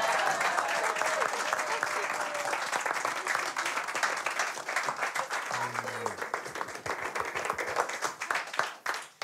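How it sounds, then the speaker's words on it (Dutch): A crowd breaks into sustained applause in honour of a long-serving pancake and frikadel cook, the clapping dense and even, with voices murmuring underneath. "Applaus voor Marie-Jeanne."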